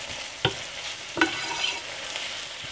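Ground beef browns in a hot pan with a steady close sizzle, broken by two distinct scraping knocks of a utensil stirring the meat, with no talking.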